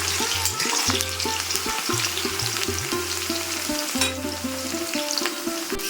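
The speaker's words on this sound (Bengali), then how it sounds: "যেরকম মোটামুটি ফ্রেঞ্চ ফ্রাইজের মতো করে ভাজা হয়ে গেছে" Mixed vegetables for a no-onion, no-garlic dish fry in oil until reddish, giving a loud, steady, close sizzle with frequent stirring clatter and a low tonal hum underneath.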